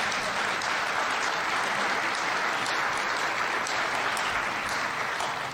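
Sustained, dense applause from a large crowd at a Mayor's Breakfast honoring General Rick Hillier, loud and steady throughout with no break.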